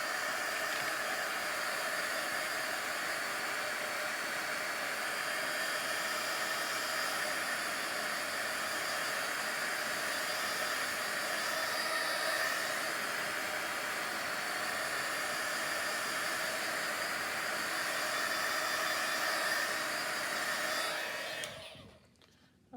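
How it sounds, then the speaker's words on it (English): A heat tool blasts hot air onto craft paint, a loud, steady hissing whoosh that runs unbroken for about twenty seconds before cutting off abruptly. "let's hit that with the heat tool"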